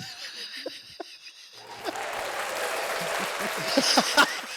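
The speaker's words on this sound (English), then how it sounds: "the crowd they have the applause light, and they're all applauding in the background" Studio audience applause at a talk event, starting with a few scattered claps and chuckles and then swelling into steady clapping from a crowd that carries to the end.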